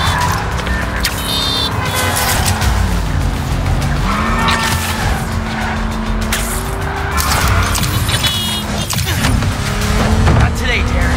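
Car in the Spider-Man 2 video game driving with squealing tires, a steady engine drone under repeated tire squeals and skids, with game dialogue spoken over the top throughout.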